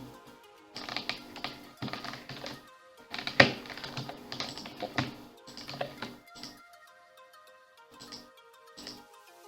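Typing on a computer keyboard while entering a Twitter profile, heard as clustered bursts of close key clicks with short pauses between runs and no talking.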